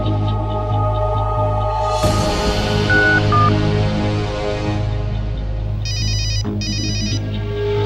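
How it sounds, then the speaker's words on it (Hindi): A phone ringtone rings loudly and steadily in an indoor TV drama scene, with a repeating melodic pattern over a constant low background hum and no talk. "इसका फोन है, करीना का फोन है।"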